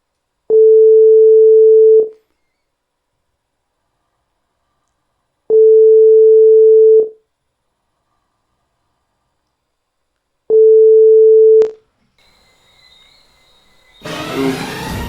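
A telephone call being placed produces three long, steady tone pulses separated by silent gaps. Then the line clicks and faint noise follows, and a voice comes in at the very end.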